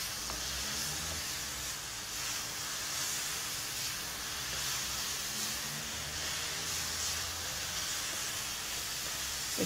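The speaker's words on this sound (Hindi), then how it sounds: "अब देखें मैं इसकी भुनाई करती जा रही हूँ और ये श्रिंक होता जा रहा है" Grated carrots for gajar ka halwa roast in a pan with a steady, even hiss of cooking that runs unbroken throughout, close and moderately loud.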